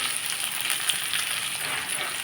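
Onions frying in a pan for a spiced potato rice, a steady close sizzle with soft crackle that holds evenly throughout with no voices.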